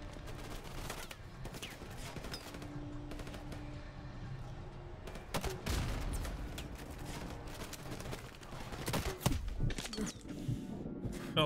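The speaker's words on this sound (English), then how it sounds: "shoot the gun" Sustained bursts of automatic gunfire and explosions in the video game Call of Duty: Modern Warfare, loud and continuous with heavier blasts breaking through the clattering fire.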